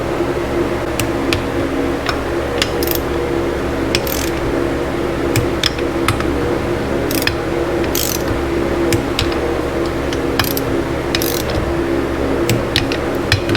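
Torque wrench ratcheting and clicking as bolts on a Honda CB350 engine are brought to 120 inch-pounds during a rebuild, with sharp repeated clicks spaced irregularly over a steady workshop hum, close and clear.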